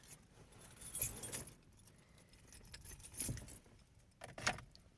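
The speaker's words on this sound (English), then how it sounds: "grab my keys here" Car keys for a Honda Fit jangle in quiet, short metallic bursts, three separate clinking moments with soft handling noise between them.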